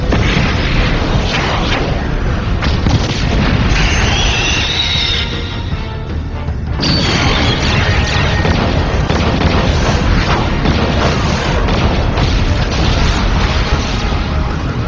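A weapon fires and explodes in a Ultraman Nexus TV episode, producing loud sustained booming blasts with a brief lull, then renewed roaring detonation.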